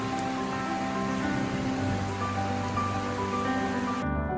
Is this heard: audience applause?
no